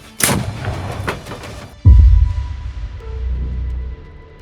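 A heavy artillery blast booms out, a deep low thump followed by a long rumbling tail that fades over several seconds, preceded by scattered rustling and knocks.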